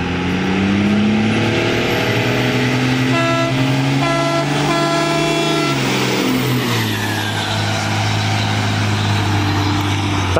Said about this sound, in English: So she's actually gonna do a driving by horn honk here and see how it sounds on the road.